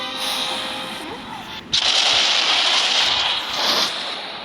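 Musket volleys crack and roll through the battle in the video game Muskets of America, a dense, loud burst of gunfire swelling midway and sustained to the end, with a voice talking faintly underneath.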